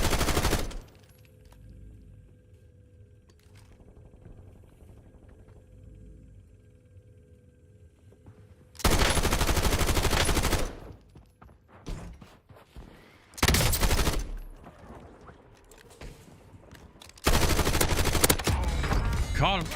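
Gunfire in the video game Warzone comes in three loud sustained bursts of rapid automatic fire separated by quieter game ambience.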